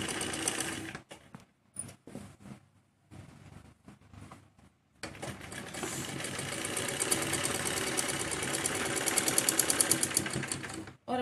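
A sewing machine stitches cloth for a pair of men's shorts, running in short stop-start bursts at first, then settling into a long steady whirring run, close and clear with no talking.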